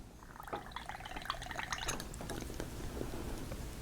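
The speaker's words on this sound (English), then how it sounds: "I'm going to flush the nib and feed." Liquid trickles and drips as the nib and feed of a 1926 Carter's fountain pen are flushed, soft close splashing and dripping with no talk.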